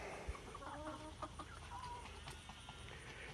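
A flock of about 27 young chickens cluck softly in an off-grid coop, scattered faint calls over a low steady background hum, with no talk.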